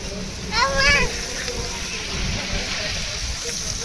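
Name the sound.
child splashing water in a pool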